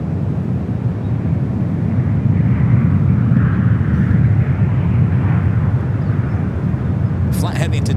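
A Japan Airlines Boeing 787-9 Dreamliner taking off at San Francisco airport, a broad, steady jet engine roar that swells slightly midway, heard from a distance, with a voice talking over it.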